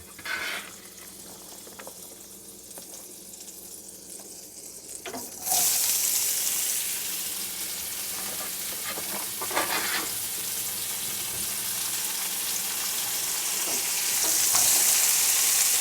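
Chopped onions drop into hot oil in a home kitchen pan, the quiet background jumping to a loud, steady sizzle that keeps crackling and swells again near the end, with no voices.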